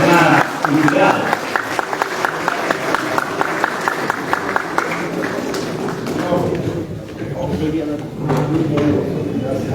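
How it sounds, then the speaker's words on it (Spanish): Applause in the hall of the Congress of the Republic welcoming a congressman to a cultural event, a steady run of claps heard under a speaking voice, then quieting as talk continues. "le pido un fuerte aplauso, por favor, de bienvenida a esta jornada cultural"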